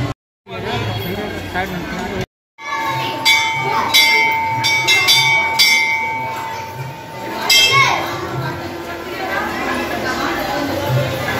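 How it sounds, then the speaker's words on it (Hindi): Small temple bells ring in a crowded temple, a few bright metallic strikes that ring on, heard under children's chatter and adults talking nearby. "बाबा देखो घंटी बजा लो देखो घंटी छोटा छोटा"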